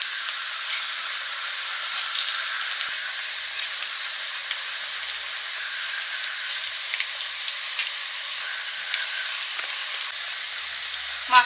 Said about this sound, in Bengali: প্রথমে ভাজছি পেঁয়াজি।